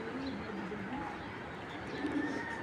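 An indigo-coloured racing pigeon hen and nearby birds coo in a steady, soft murmur of low rolling calls, a few clearer coos standing out near the end, close and unbroken.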